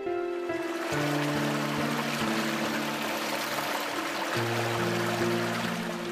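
A small historic mill stream, the Quattelbach, flows steadily through meadows, its broad rushing water noise continuous and close under sustained musical tones.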